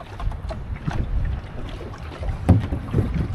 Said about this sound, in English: So then we can put our engine down.